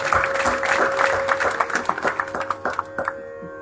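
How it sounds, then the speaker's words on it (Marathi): A concert audience at a Marathi natya sangeet and bhajan evening in Pedne claps loudly, the dense applause near at first, then thinning into scattered individual claps and fading out. "त्यापूर्वी आमचे ध्वनी संयोजक मित्र प्रदीप चारी यांच्याकरता जोरदार टाळ्या."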